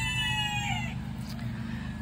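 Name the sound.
Polish rooster crowing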